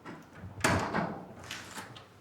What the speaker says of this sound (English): The team are able to enter the flat with the front door key.